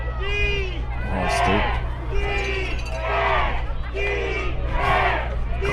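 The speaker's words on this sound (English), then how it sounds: "Crowd got the defense chant working" A football crowd at a minor league championship game chants for the defense, a rhythmic repeated shout of many voices rising and falling in regular waves over a steady low background hum.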